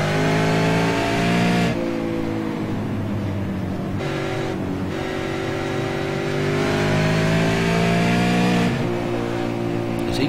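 A Holden V8 race car engine roars loud and steady through the whole stretch, with rising and falling revs as it races close behind a rival car on track.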